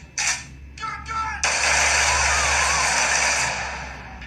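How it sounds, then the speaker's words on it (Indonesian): A shotgun fires during a police shooting scene in the film Unfriended: Dark Web, at boosted volume: two short bursts, then a loud, harsh, distorted roar of noise that holds for about three seconds before easing slightly. "suara tembakan shotgun dengan volume yang dinaikkan"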